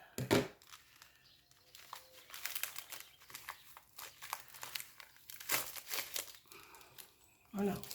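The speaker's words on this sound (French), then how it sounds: "Je vais défaire le papier parce que sinon ça va briller." Paper crinkles and rustles in short, uneven bursts, close by, with brief quiet gaps between handfuls.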